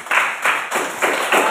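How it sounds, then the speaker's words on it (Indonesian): A classroom of students at a junior high school clapping for the fourth group, steady rhythmic group claps in five even pulses, loud and close with a faint hiss behind. "tepuk tangan untuk kelompok keempat"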